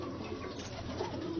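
Kamagar pigeons cooing softly in a loft cage, a continuous low burbling coo close by with no talking.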